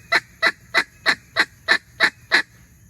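Eight evenly spaced, loud, sharp quacking cuts from a mallard duck call used for hunting in flooded timber, each a short rasping burst, delivered alone at a steady, rapid rhythm.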